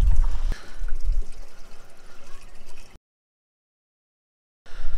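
Drinking water pouring and splashing from a bottle on a road trip near Afyonkarahisar, a steady close trickle for about three seconds, then a pause of silence before the water resumes briefly.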